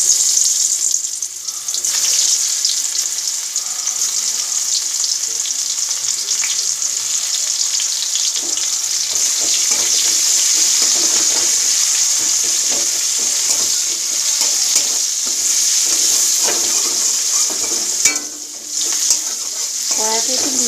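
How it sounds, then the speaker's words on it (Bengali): Steady, loud sizzling of small fish frying in a wok, a continuous hiss with occasional scraping and stirring noises throughout. "কড়ায় এই যে চুনো মাছগুলো ভাজা হয়ে গেল"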